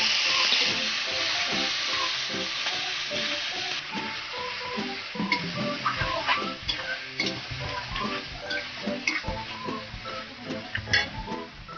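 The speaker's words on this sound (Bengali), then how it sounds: "এবার আমি মাংসটা এর মধ্যে দিয়ে দিচ্ছি। আমি কষিয়ে নেবো এবার একটু ভালো করে।" Chicken pieces frying in a pan for a Bengali chicken curry with potatoes, a strong continuous sizzle with ticking spatters and stirring scrapes, close and fairly loud throughout, no voices.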